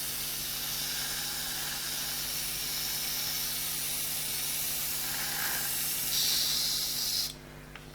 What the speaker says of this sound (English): I'm keeping the airbrush pointed in.